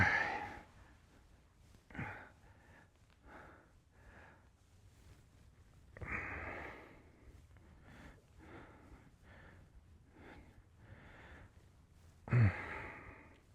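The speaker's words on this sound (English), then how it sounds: "I'm sure you're hearing everything, all the breathing and grunting" Heavy breathing during strength training comes as repeated sighs, snorts and grunted exhalations in a slow rhythm, close to the mic and with no talking.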